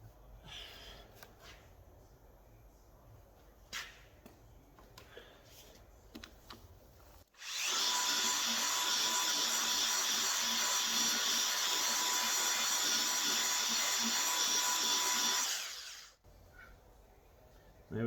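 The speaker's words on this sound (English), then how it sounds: "It does need a little bit more polishing, so let's give that another going over." A machine polisher works over Fiat Coupe bodywork to remove scratches, a loud, steady whirring that runs for about nine seconds in the middle, with quieter handling clatter before and after.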